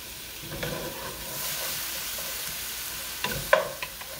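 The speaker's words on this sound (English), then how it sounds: "we're going to be cooking the beef until there isn't any more pink" Beef for stroganoff sizzles steadily in a hot pan, a soft continuous frying hiss with a few sharper clinks and pops near the end, no voices.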